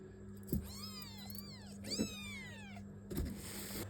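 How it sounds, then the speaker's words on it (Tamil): A young kitten gives three clear meows, each rising then falling in pitch, spaced a second or so apart. The meows are fairly close but soft, over a quiet background hum. "இது எப்படி கத்துது மட்டும் கேளுங்க"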